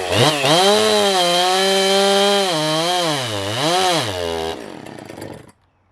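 A Husqvarna 257 chainsaw with a ported cylinder runs loud and close, its engine revving up and down in wavering swells, then cuts off and falls silent.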